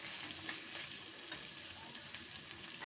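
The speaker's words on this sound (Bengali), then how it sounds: "10-15 মিনিট মতো এটাকে কষাবো" Mutton masala is stir-fried in a pan, a steady, fairly quiet sizzle and crackle running evenly throughout with faint scraping, ending in a brief cut-out.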